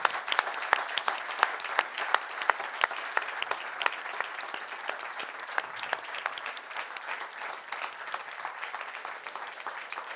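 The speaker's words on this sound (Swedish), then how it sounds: "så tar vi en riktigt stor varm applåd för alla som varit med" Applause at an agtech innovation competition award ceremony: a sustained round of clapping from an audience, steady and fairly dense, running for the whole stretch at moderate loudness without talking.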